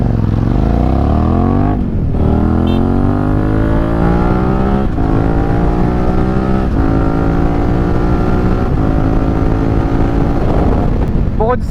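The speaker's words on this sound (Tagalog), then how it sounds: "Ganyan ang gusto ko sa adventure bike." An adventure motorcycle engine revs and accelerates steadily on a road, its rising harmonic whine loud and close, with wind rushing over the microphone throughout.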